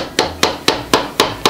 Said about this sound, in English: just grab your little hammer and hammer your merry way away